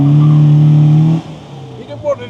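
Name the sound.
classic MGB car revving with wheel spin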